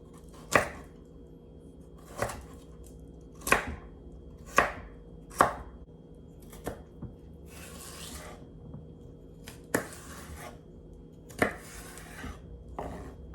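Vegetables for a homemade chicken soup being chopped with a knife on a cutting board, a steady series of sharp, close thunks spaced about a second apart, with a couple of softer scraping sweeps in between.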